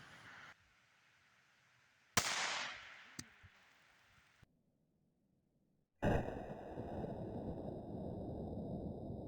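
A Heritage 9-inch adjustable-sight revolver fires a Mini Mag hollow point at a can on an outdoor range: one sharp, loud crack with a short ringing tail, then near-silence until a broad, steady noise swells near the end.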